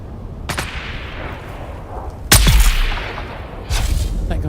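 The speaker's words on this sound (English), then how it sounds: "trying to shoot at me now" Three loud gunshots from a sniper in a video game, each a sharp crack with a booming tail, spaced about a second or two apart over a steady windy background.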